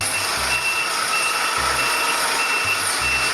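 A toy forklift gives steady, repeated reversing beeps, loud and close, over a constant hiss with no talking.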